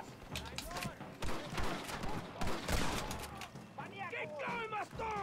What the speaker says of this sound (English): Nothing like shooting a man in the back.